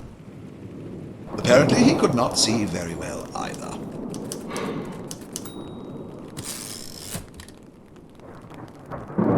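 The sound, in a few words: thunderclaps and rain in a radio drama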